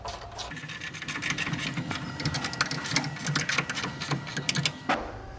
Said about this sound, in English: I'm using the ratchet wrench because there's not a lot of room down here